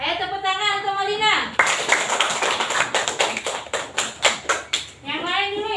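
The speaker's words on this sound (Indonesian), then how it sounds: "Ayo tepuk tangan untuk Maulina." Children in a classroom clap their hands together in a burst of sharp, rhythmic claps lasting a few seconds, with a teacher's voice speaking before and after.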